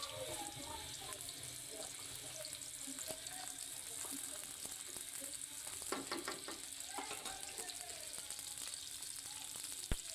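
Onions, butter and dried chilies fry quietly in a pan, a faint continuous sizzle with scattered spatters and light stirring clicks, plus a sharp knock near the end.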